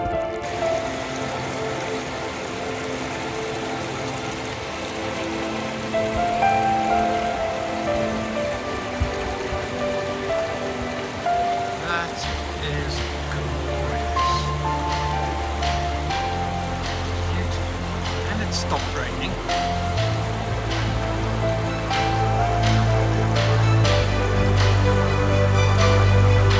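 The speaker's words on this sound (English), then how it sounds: "it's raining" Steady rain patters on a surface throughout on a hill walk at Kinder Scout, a broad continuous hiss with a few distinct drops, while a low rumble swells in the second half.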